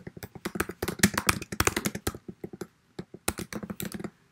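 Fingers type rapidly on a computer keyboard, a close run of crisp clicking keystrokes with short gaps and a few pauses, no voices.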